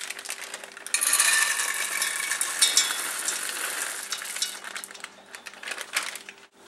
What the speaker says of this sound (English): To prevent this from burning, you're going to want to stir this constantly as it heats up.